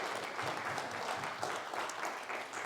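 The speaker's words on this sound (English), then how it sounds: "Give me a round of applause, please, just to break the ice." Audience applause during a motivational talk, a crowd clapping steadily and fairly loudly for a few seconds, with faint voices mixed underneath.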